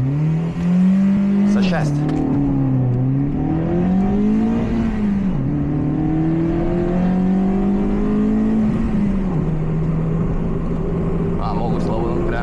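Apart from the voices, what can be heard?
Citroën C2 VTS race car engine revving at launch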